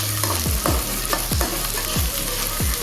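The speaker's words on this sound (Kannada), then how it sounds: "ಇದನ್ನು ಸ್ವಲ್ಪ ಚೆನ್ನಾಗಿ ಗೋಲ್ಡನ್ ಬ್ರೌನ್ ಆಗೋವರೆಗೂ ಸ್ವಲ್ಪ ಚೆನ್ನಾಗಿ ಫ್ರೈ ಮಾಡ್ಕೊತಾ ಇರೋಣ" Onions fry in ghee in a pan with a constant close sizzle, while a spatula scrapes through them in regular strokes about twice a second.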